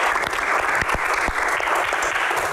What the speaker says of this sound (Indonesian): Tepuk tangan semangatnya untuk box kali ini.